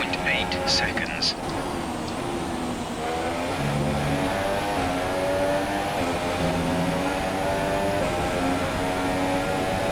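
A Formula 1 race car engine whines and shifts pitch through gear changes in the F1 2017 video game during the Australian Grand Prix, loud and sustained, with a voice talking over it.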